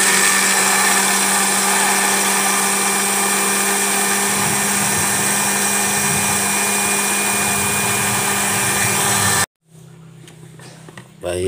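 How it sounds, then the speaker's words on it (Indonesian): A loud blender grinding sesame seeds roars steadily for several seconds, then abruptly cuts off, leaving quieter background noise. "ini sudah saya masukin ke dalam blender ya. Kita akan memblendernya sampai dia"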